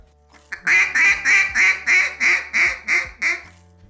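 A run of about nine short, nasal, reedy bagpipe-style honks in a steady rhythm, each swelling and sagging off as air pressure dies, the last ones trailing away softly without a hard cutoff.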